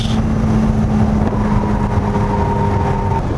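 A Ferrari 296 GTS convertible accelerating with its top down on a country road: a steady, loud engine drone blended with heavy rushing wind, continuous throughout, with no talking.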